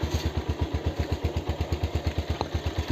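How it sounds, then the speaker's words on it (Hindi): Used motorcycle engine idling at about 1000 rpm, a steady rhythmic chugging pulse of even beats, close and clear with no talk. "बाइक करके इसको आप 1000 आरपीएम पे छोड़ दें।"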